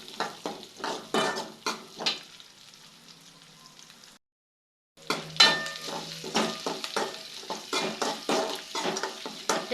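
Curry leaves and chillies sautéing in a pan for a dried-fish stir-fry, heard as sizzling with repeated utensil scrapes and stirs, a short silent break midway, then renewed frying and clinks close by.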